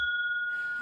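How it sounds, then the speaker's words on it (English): A dinner bell on a front porch of a 10-acre property gives a single clear ringing tone that holds steadily through a brief moment. "And this is our dinner bell. We really do use it."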